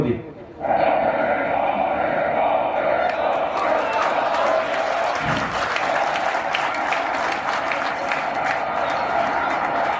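Large rally crowd for Prime Minister Modi, roaring with sustained cheering and applause that swells after a brief lull and holds loud and dense throughout, with shouts rising from the mass of people.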